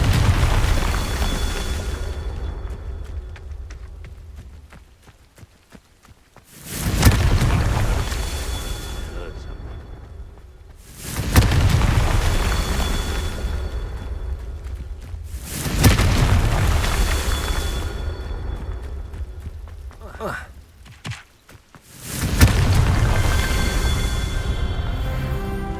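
Confringo blasting spell explosions in Hogwarts Legacy, four loud booming blasts spaced a few seconds apart, each with a sharp onset and long rumbling decay, with voices speaking between them.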